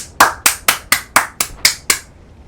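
Eight crisp hand claps ring out alone in a steady, fairly quick rhythm, each one sharp and close.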